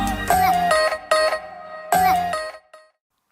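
Startup chime of a Vivo Y20s smartphone booting up: three bright, ringing tonal phrases played loud and close, each held briefly with short gaps between, fading to silence at the end.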